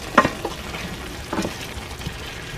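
Pork adobo frying in a pan as it is stirred, with a few short scraping, sizzling bursts spaced through the moment over a low background of cooking noise.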